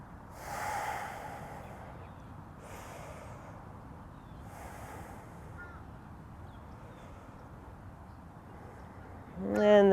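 Slow, soft breathing during a held yoga pose: three or four gentle breaths spaced a few seconds apart, quiet and close, and a brief louder sound at the very end.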